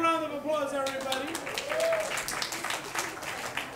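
Guests applauding at a first birthday party, steady clapping that rises as a voice trails off at the start and then carries on alone for a few seconds.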